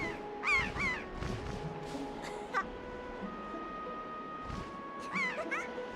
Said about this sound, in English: she's always got seagulls with her.